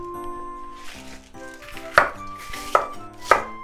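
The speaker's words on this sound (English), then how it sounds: "I'm just gonna separate the top part and the bottom part off, and then just kind of cut into like this way" Knife chopping bok choy on a cutting board for a Japanese shabu shabu hotpot, three sharp, fairly loud chops spaced about a second apart over a steady background of sustained musical tones.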